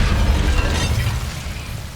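Incendio fire spell in Hogwarts Legacy, a loud rumbling burst of flame with a deep low roar that gradually thins out over two seconds, heard alone.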